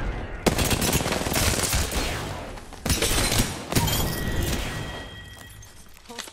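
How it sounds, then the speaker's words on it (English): Gunfire in the Apex Legends battle royale game in Capitol City, rapid automatic bursts and sharp single shots with impacts, fairly loud and near, pausing briefly, with a few voices over it. "Oh, they're shooting at me."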